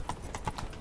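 Hooves of Roach, a horse in a video game, clip-clopping in a quick, even rhythm of about four close, moderately loud strikes within a second, with no voices over them.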